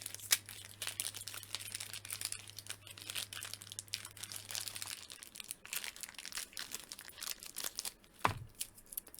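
Close-up crinkling and rustling of a taped plastic accessory bag from a wrestling action figure package, with scattered crackles and a sharper tearing rip near the end.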